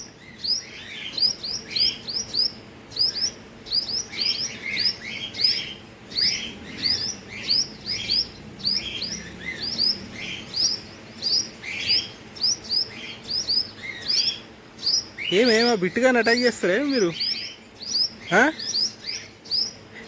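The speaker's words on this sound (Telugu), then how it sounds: "ఇంత చిన్న బర్డ్సే వీటిని అటాక్ చేయడానికి చూస్తున్నాయి" Small birds chirp near a pet squirrel in a quick, repeated run of bright, close tweets that carries on throughout, with a person speaking briefly over them near the end.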